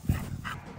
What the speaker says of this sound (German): Doch Cocker Spaniel Bobby hat es leider auch faustdick hinter den Schlappohren.